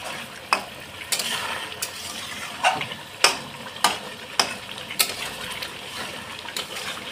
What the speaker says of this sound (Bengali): 4 থেকে 5 মিনিট কষিয়ে নেব।